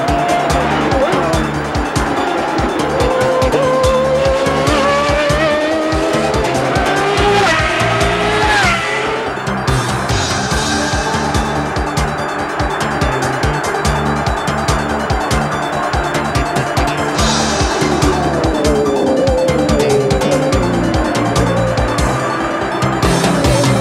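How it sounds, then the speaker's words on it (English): Indy race cars racing at Portland, engines screaming as they pass close by with tires squealing in the corners, loud and continuous, with faint commentary underneath. "There's Luyendyk right on his tail, making a pass coming off the 9"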